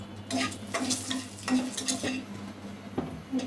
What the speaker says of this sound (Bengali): এখন ভাজবো শুকনা মরিচ, যেটা না হইলেই না ভুনা খিচুড়িতে।